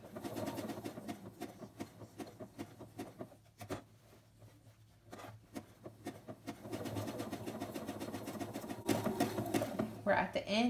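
A sewing machine stitches an appliqué onto a T-shirt in uneven bursts of rapid mechanical stitching, pausing and restarting, with a person talking over it and brief quiet gaps.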